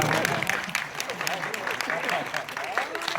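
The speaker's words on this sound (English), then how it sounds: "Give her a round of applause." An audience claps in a dense burst of applause lasting throughout, with a voice speaking over the clapping.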